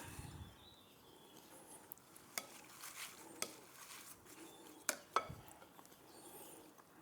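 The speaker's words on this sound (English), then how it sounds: "I will mix in our mint as well" Fresh mint being stirred into laab gai, a spicy minced chicken dish, in a pan: soft scraping and stirring with a faint sizzle, punctuated by a few sharp utensil clinks against the pan, with no talking.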